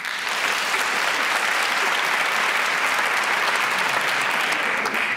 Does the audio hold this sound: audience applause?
yes